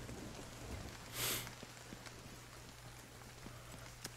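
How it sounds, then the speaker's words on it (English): Rain patters steadily in the video game The Division, a soft, continuous hiss with scattered louder drops and one brief swell, fairly quiet and with no talk. "It's rainy."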